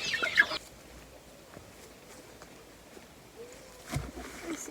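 Farmyard chickens cluck in short scattered calls, one louder squawk at the start and more clucks later, moderately close among quiet rustling outdoor ambience.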